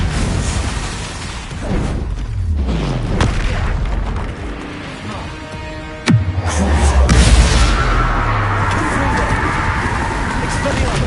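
A Bombarda spell blast goes off in Hogwarts Legacy: a sudden loud boom around the middle, with rumbling combat noise and spell effects around it and a dense game soundscape throughout.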